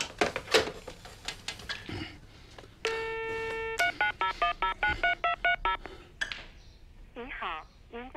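Telephone keypad dialing tones, a long held tone followed by a quick run of short evenly spaced beeps, with people talking around them in a home setting.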